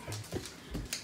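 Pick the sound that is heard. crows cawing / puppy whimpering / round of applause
puppy whimpering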